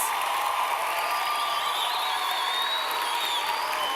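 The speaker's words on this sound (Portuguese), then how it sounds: "Aplauda Jesus" Sustained applause from a church congregation fills the space, steady and dense throughout with no pauses.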